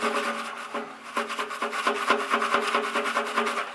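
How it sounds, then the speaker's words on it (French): Old hemp is scrubbed off the threaded pipe of a water heater, a brisk series of rhythmic rasping strokes, close and fairly loud, about a dozen passes in quick succession. "On va par conséquent nettoyer ce filetage"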